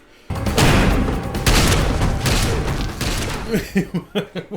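Loud, close gunshots from a scene in the film John Wick: Chapter 3 burst in heavy overlapping volleys, then give way to a string of separate punchy thuds.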